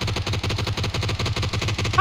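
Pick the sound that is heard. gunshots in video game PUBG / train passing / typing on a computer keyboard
gunshots in video game PUBG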